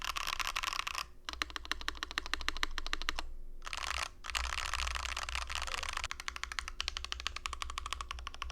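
Rapid typing on a DR-70F mechanical keyboard with case foam added, bursts of fast clacky keystrokes broken by two brief pauses, close-up and steady with no talking.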